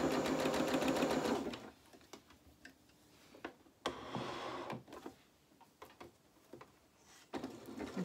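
Zigzag stitching on lace with a sewing machine set to a 3.5 width and 1.5 length: a brief close whirring run at the start, then quiet handling with scattered small clicks and ticks.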